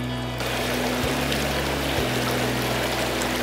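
Small river flowing steadily in the Ado River area, a continuous close broadband rush of water with a low hum underneath, and no talk over it.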